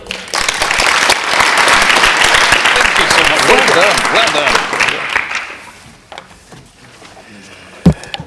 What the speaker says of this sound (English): we have another round of applause for our panel and all the panels today